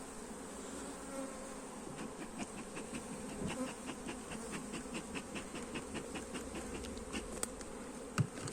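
Honey bees hum and buzz in a dense, continuous drone during a beehive inspection, with occasional soft clicks and handling noises close by.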